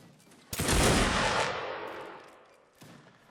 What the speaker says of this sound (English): they continue to hold the line and fire